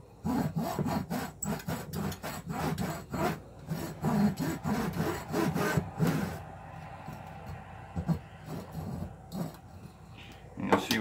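A hacksaw cuts a firestarter piece in rapid, rhythmic back-and-forth rasping strokes, close and steady, pausing briefly near the end before a few more strokes.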